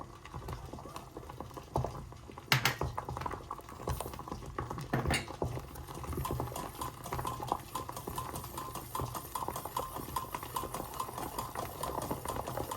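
A honey cake mixture with baking soda and citric acid bubbles and fizzes in a steady, crackling froth, with a couple of sharper clicks early on; no voices.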